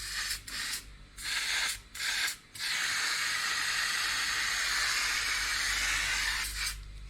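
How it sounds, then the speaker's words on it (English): Oil sprayed over floured roast pork in a series of short hissing bursts, followed by one long continuous spray and a final brief burst, close and fairly soft. "I'm going to add a bit of oil over it"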